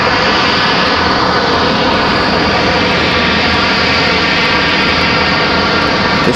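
Alaska Airlines jet taxiing at Raleigh-Durham airport, its engines giving a continuous, fairly loud roar and whine that stays even throughout, with no voices.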